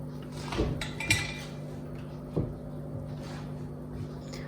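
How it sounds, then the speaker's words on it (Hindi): Ingredients added to milk in a pot, a few soft clinks and taps of a utensil against the pot, faint and close in a quiet room. "अब मैं ये सारा अपने दूध के अंदर डाल दूंगी।"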